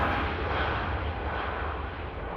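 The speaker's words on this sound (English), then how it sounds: "off goes the Turkish A321 Neo back to Istanbul. It just taxied past, gave us some awesome audio here at the runway visitor park" A Turkish Airlines Airbus A321neo taxis past an airport runway viewing area in Manchester, its engines giving a loud, steady broadband roar that holds for the whole stretch with no talk.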